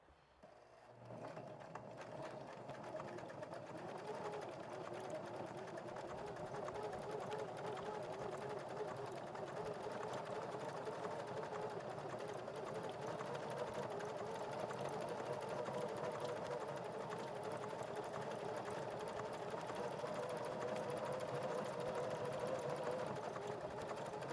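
A sewing machine runs steadily through decorative stitching on collaged fabric scraps, a continuous close mechanical hum and patter lasting almost the whole stretch after a brief start.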